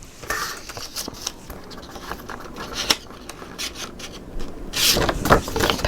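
Scissors cut through a paper sheet for a handmade mini album, producing close, dry snips and rustles of paper in several short strokes, with a sharper burst of cutting near the end.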